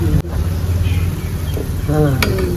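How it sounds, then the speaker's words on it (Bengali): Thekua dough pieces frying in shallow oil and being flipped over, giving a steady close sizzle with brief stirring clatter, while a person talks over it. "এইভাবে আমি এক সাইডটা ভেজে নিলাম আবার উল্টিয়ে দিচ্ছি"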